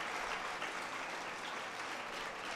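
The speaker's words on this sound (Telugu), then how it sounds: "మన అదృష్టానికి మనం చప్పట్లు కొట్టుకోవాలి" Audience at a Telugu spiritual discourse clapping together, a dense, sustained patter of many hands at moderate distance, steady throughout with no voices over it.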